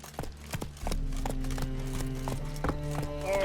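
A horse trots in The Witcher 3 video game, with rhythmic hoofbeats clip-clopping close by over a droning game score.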